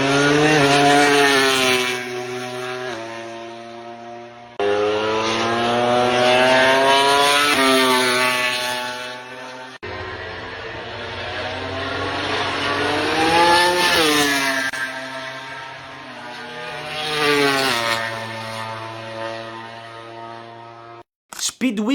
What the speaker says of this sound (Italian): il sound delle varie moto che passano